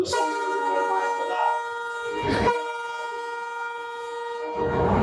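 A train passes on a railway track near Rajkot, Gujarat, sounding a long, loud sustained horn close by, with rumbling wheel noise swelling beneath it.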